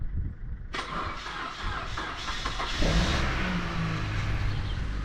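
A car engine cranks with labored, rhythmic turning, then catches and settles into a steady running hum, heard close by outdoors with no jump starter attached.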